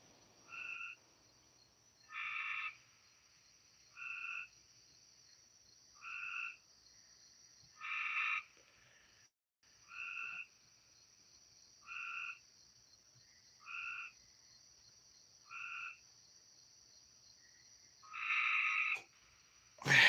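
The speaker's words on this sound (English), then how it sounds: "I'm hearing a lot of frogs." Frogs call outdoors at night, a single repeated croak about every two seconds, loud and nearby against a quiet background with a faint steady high insect hum, and no voices.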